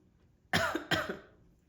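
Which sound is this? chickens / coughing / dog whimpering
coughing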